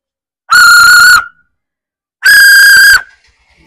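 A whistle gives two sustained, piercing blasts of a bit under a second each, separated by a short pause, loud and close with nothing else around them.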